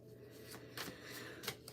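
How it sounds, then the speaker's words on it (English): Tarot cards are shuffled quietly by hand, with a few soft riffling bursts in a hushed room. "I need to shuffle these for you."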